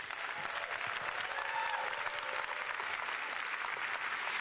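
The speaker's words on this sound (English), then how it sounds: "Please, another round of applause for our Olympic and Paralympic athletes." A crowd applauds Olympic and Paralympic athletes at a Los Angeles flag celebration, continuous dense clapping at a distance with a brief cheer or whistle rising above it midway.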